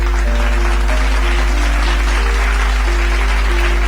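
A church congregation applauding during a sermon, a dense, steady wash of clapping that continues throughout, with a low hum and faint sustained tones beneath.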